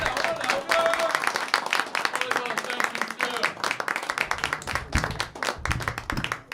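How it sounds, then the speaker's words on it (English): A comedy club audience claps for the host, with dense, uneven clapping and crowd noise from start to finish, plus a few cheers mixed in. "give him a round of applause"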